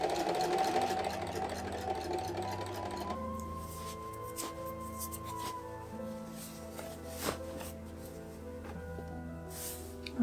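A sewing machine runs steadily along a linen sleeve seam for a medieval Viking serk, a faint mechanical hum with light clicking and occasional sharp taps, no talking.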